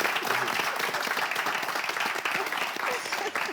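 A studio audience at a French television game show applauds in a dense, steady burst of clapping that fills the short moment.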